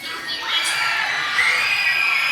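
A crowd of people at a fan meetup Q&A screeches and cheers together in one sustained, shrill burst of yelling that lasts the whole moment.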